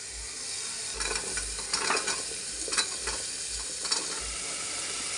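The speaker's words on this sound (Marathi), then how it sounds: "आपण त्याच्यामध्ये टाकूया आता छोले त्याच्यामध्ये छोले आणि एक बटाटा टाकते" Chickpeas and a potato go into masala fried in oil until the oil separates, producing a steady close sizzle broken by repeated bursts of spatula scraping and stirring.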